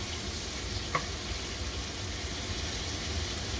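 Kaffir lime leaves dropped into hot oil in a wok sizzle steadily, a close, even crackling hiss with one faint clink of a utensil, no talk.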